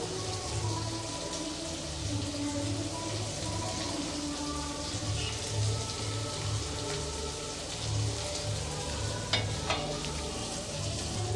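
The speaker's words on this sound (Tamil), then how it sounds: "இப்போ ஸ்டவ்வை வந்து நம்ம மீடியம் ஃப்ளேமில் வச்சு நல்லா கலந்து விட்டுறலாங்க" An egg fry is stirred in a pan over a medium flame, giving a steady, close sizzle with faint scraping from the stirring that runs unbroken throughout, with no talking.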